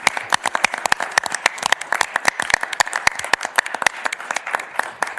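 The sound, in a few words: applause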